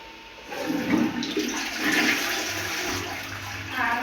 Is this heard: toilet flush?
yes